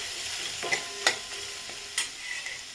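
Spices, chilli powder and coriander powder, being stirred in a hot pan, with a few sharp scrapes of the spoon over a steady soft sizzle.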